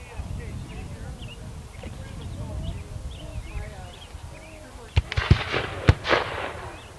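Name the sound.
reenactment field guns firing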